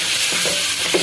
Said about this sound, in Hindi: ऐसा भुनेंगे गोश्त को और फिर सारे मसाले डाल देंगे